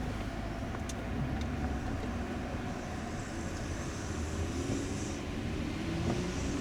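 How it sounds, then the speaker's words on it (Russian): Porsche Cayenne 3.6 FSI running on petrol, a steady broadband road and engine rumble heard from inside while driving, constant level throughout with no talk. "Автомобиль работает на бензине."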